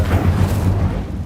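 Incendio fire spell cast in Hogwarts Legacy, a deep booming burst of flame that rumbles steadily for about a second, loud and close with no talking.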